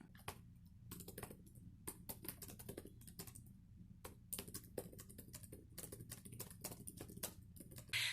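Fingers type on a computer keyboard in quick, irregular bursts of soft clicking keystrokes with short pauses between runs, close and quiet, no voices.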